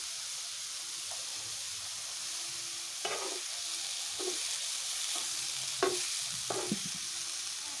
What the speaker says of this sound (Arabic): بعد ما خلصت الخبز حطيت الدجاج يستوي